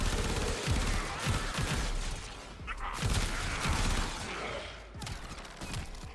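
Acceltra rifle in the game Warframe, firing near-constant rapid bursts with punchy low thuds under dense crackling blasts, loud and close, with short pauses between volleys and no clear talk.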